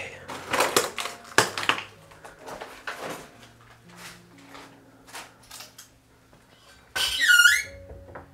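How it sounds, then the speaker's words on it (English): A high, wavering squeak rings out near the end inside an abandoned house, following scattered soft creaks, clicks and shuffling movement, fairly faint overall and close by. "that was squeaking"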